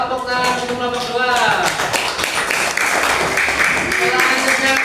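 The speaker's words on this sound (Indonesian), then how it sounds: "Tepuk tangan untuk kelompok 2." Students clap in a classroom after a group presentation, a close, busy patter of hands that starts under a voice and runs steadily to the end.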